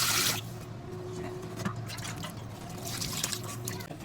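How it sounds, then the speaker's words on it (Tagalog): Cooked pork draining in a kitchen, with liquid trickling and dripping steadily at close range and a brief louder splash at the start. "I-drain muna natin yung pork habang pine-prepare natin yung ibang mga sangkap."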